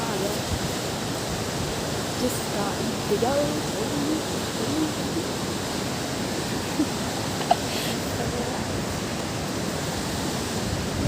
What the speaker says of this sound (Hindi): और ये देखो झरना आ गया